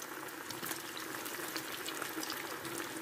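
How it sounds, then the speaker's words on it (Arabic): Potato balls frying in hot oil, a steady dense crackling sizzle throughout with no talk, fairly soft and continuous. "نديروهم نقصوا البوطه على الزيت باش ما يتحرقوش، ونلوحوا بشويه بشويه"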